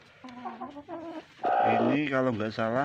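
A brooding Koingon-breed mother hen sitting on a clutch of about 14 eggs clucks in a few close, throaty calls, then gives a longer, louder drawn-out cluck, with someone talking briefly.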